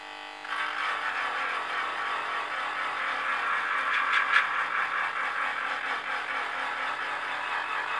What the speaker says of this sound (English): So I'm just going to take the edge off with the Dremel and then flatten it with the other one